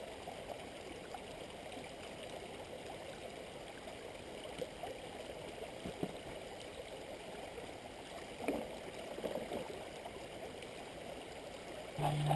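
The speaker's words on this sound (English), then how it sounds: "The wheel is in the water and working" A homemade water wheel pump turns in a creek, its steady rushing, gurgling wash running continuously at moderate level, with a couple of brief splashy surges near the end.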